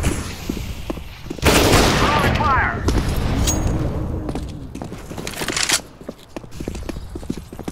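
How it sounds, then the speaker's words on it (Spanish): A flashbang grenade goes off in Counter-Strike: Global Offensive, one sharp, loud burst followed by ringing, set among scattered in-game clicks, footsteps and distant shots, with a voice speaking over the game. "Flashbang."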